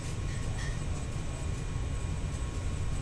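A train rumbling by in the Time Crisis arcade video game: a steady, dense low rumble with a faint high whine, continuous and unbroken throughout.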